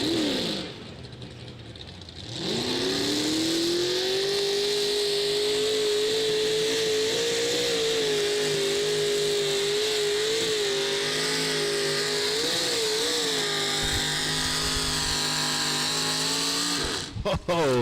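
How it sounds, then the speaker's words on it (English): A pulling tractor roars at full throttle during a tractor pull competition, its loud engine rising quickly and holding a sustained, wavering howl before cutting off near the end, with an announcer talking over it. "things getting a little bit wild right there for the flasher tractor, and Joe Wills did a great job of driving."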